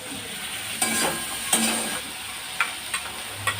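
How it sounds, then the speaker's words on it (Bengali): Onion frying in oil with cumin, dry chilli and bay leaf, a continuous soft sizzle with a few sharp spoon scrapes and taps against the pan at irregular intervals. "পেঁয়াজটাও একটু ভালো করে ভেজে নেব।"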